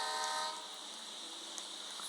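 A train running in the horror video game Choo Choo Charles, heard as a steady mechanical rail rumble with a tonal horn-like hum that holds through the short stretch without talk.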